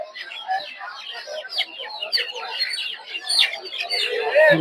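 Native chicks and ducklings chirp and peep continuously at a busy village poultry market, a dense overlapping chorus of high calls close by, with people talking beneath it.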